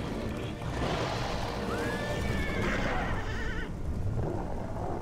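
A horse whinnies in the Castlevania: Lords of Shadow video game, a single rising neigh heard over a steady bed of rain and rumbling storm ambience, with no talk.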